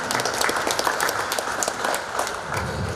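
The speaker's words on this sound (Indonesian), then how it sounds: "Kita berikan aplaus bagi kedua mempelai" Applause breaks out for a newly married bride and groom at a wedding ceremony, a dense, steady wash of many hands clapping that carries on without a break for the whole stretch.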